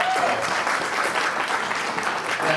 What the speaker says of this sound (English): That received significant applause as well.